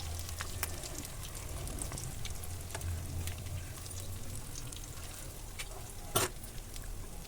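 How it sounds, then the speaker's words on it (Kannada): Pakoda batter crackles and sizzles continuously in hot oil, a dense, even frying hiss with scattered pops and one sharper clatter near the end, no voices. "ಈ ರೀತಿಯಲ್ಲಿ ಎಣ್ಣೆಯಲ್ಲಿ ಫ್ರೈ ಮಾಡ್ಕೊಳ್ಳೋಣ"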